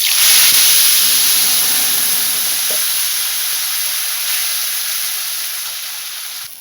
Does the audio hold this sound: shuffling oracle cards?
no